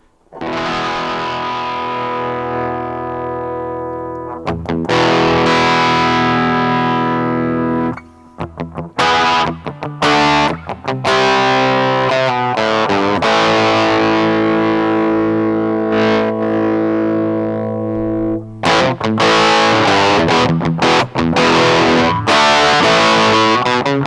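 An electric guitar on the bridge pickup plays through an EHX Metal Muff Pocket distortion pedal with the mids scooped and gain turned low, sustained chords and riffs ringing loud and close with brief stops between phrases.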